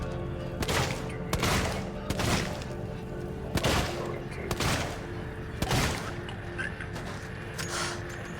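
Several separate gunshots fire at a Working Joe android in the video game Alien Isolation. The sharp cracks come at uneven intervals over a steady background drone, with a voice talking faintly in places.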